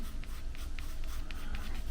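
A pencil sketches on watercolor paper with quick, rhythmic scratching strokes, close and steady.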